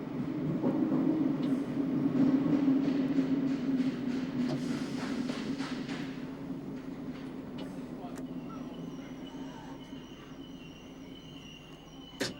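A 1991 train climbs the 1 in 29 gradient off the platform end at City Thameslink, its steady low rumble and rail clatter running throughout with a brief squeal and a click near the end, while a voice talks over it.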